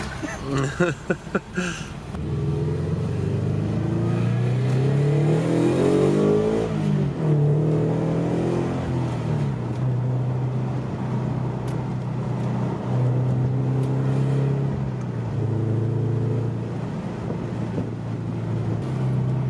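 A Subaru BRZ with a Perrin 2.5-inch resonated exhaust accelerates hard from inside the cabin, the exhaust note climbing through rising revs with gear changes, then cruising under road and wind noise.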